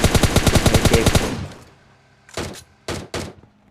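A rapid burst of automatic gunfire from PUBG Mobile Lite rattles loudly for about a second, then fades. Three sharp, separate shots follow at irregular intervals, with no talk.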